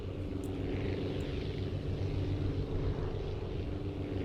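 A propeller plane's engine in the flight game Aviassembly throttles up, giving a steady, loud droning hum that holds evenly throughout with no break.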